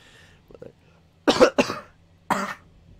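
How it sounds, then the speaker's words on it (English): A person with a head cold coughs in short bursts, first a faint throat-clearing, then two harsh close coughs in quick succession followed by another single loud cough. "Excuse the coughing."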